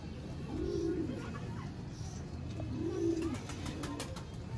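Sialkoti cross-bred breeding pigeons coo twice in two soft, rolling phrases close by, with faint chirps and light background noise between them.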